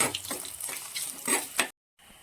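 Shallots frying in a pan, a close sizzle with a few stirring scrapes before the sound cuts off abruptly near the end.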